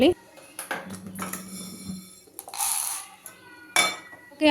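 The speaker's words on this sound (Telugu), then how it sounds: "ధనియాలు ఫ్రై అయిపోయాయండి వేరే బౌల్లోకి తీసేసుకోవాలి" Roasted coriander seeds are tipped from a pan into a bowl with metallic clinks, scrapes and a brief rattling pour, set against short bursts of kitchen clatter.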